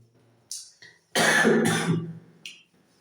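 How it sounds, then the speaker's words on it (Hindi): A single person coughs and clears their throat up close, a couple of rough bursts with short breaths in between. "एक खांसी आ जाती है बीच बीच में"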